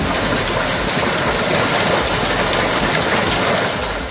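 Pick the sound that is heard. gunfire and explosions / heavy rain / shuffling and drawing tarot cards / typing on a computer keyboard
heavy rain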